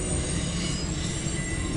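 A CSX mixed freight train rolls past close by, a loud, continuous roar of wheels on rail with steady rumbling and a faint squeal throughout.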